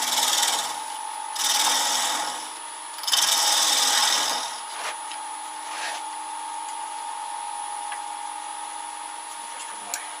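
Woodturning lathe tidying the base tenon of a holly natural-edged bowl: a steady motor whine with bursts of scraping tool cuts in the first half, then quieter running, close and moderately loud.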